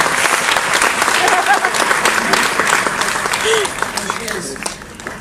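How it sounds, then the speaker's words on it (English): Sustained applause from a comedy audience at a live show aboard the JoCo Cruise, dense clapping filling the room and tapering slightly near the end, with faint voices underneath. "applause, applause, applause"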